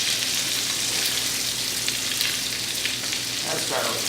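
Pesto-coated salmon fries in a hot pan, giving a steady close sizzle and crackle with a brief flurry of louder spitting near the end.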